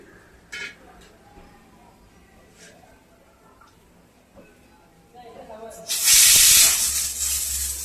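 Kitchen pressure cooker on a gas stove bursts into a loud, sustained steam hiss near the end of the clip after quiet moments with faint clicks and scrapes.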